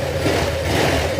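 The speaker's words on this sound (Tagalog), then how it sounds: "Okay, yan tunog ng makina niya mga sir." A Honda Click 150 scooter engine, freshly rebuilt with a new block, runs at a steady even idle, close by and moderately loud, with no talk over it.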